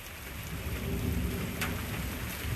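Steady rain falls on a front porch, a dense, even hiss of drops with a low rumbling undertone, constant and close with no voices.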